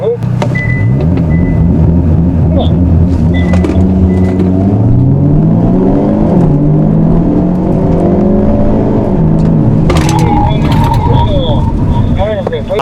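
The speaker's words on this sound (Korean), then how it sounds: "끝까지 밟은 상태에서 가속 페달을 밟고서 이제 가속 페달을 발에 떼면 런치 컨트롤이 작동이 됩니다." A Hyundai Avante N launches under launch control at a race circuit, its engine note climbing in pitch as it accelerates hard, loud and close throughout.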